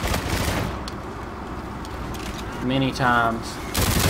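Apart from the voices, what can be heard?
gunfire in a shooter video game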